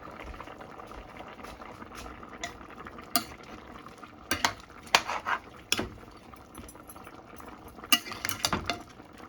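A pot of rice and stock for kitchri with split peas, meat, spinach and okra bubbles at a boil, with soft continuous burbling and several close clinks and scrapes of a utensil stirring in the pot.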